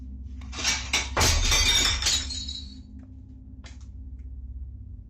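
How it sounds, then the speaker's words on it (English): A plate flies out of a kitchen cabinet and shatters on the floor: a loud crash of breaking ceramic with scattered tinkling shards, then a single faint clink and a low steady hum in a quiet room. "A plate flies out of one of the cabinets and shatters on the floor."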